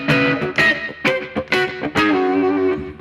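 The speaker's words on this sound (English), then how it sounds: "is kind of just a clean sound with a little bit of univibe, a little bit of slap delay." A clean electric guitar tone with univibe modulation and slap delay plays a short phrase of plucked notes and chords at close, full level, each attack followed by a quick echo.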